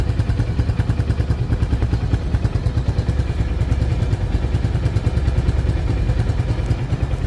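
A TVS Metro Plus motorcycle from the 2023–24 model years, kept in showroom condition, runs with a steady, close, rhythmic engine thrum and fast even pulses that hold the same pace throughout, with no voices.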